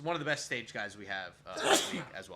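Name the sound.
sneeze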